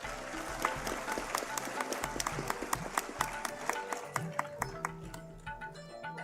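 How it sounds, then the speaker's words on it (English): Audience applause at a national symposium hall, a steady mass of claps filling the room at moderate level, with scattered louder hand strikes and some background voices mixed in. "Can we have a round of applause for everyone?"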